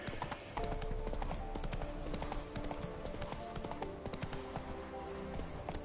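Horse hooves clip-clop at a steady riding pace in The Witcher 3 on PS5, a continuous close, clear rhythm of hoofbeats over ambient game sound.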